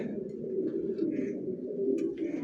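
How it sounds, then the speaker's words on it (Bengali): Tiger grizzle racer pigeons coo steadily in a low, continuous murmur close by, with a few faint higher chirps and rustles above it and no talking. "এগুলো হচ্ছে tiger grizzle tiger grizzle racer"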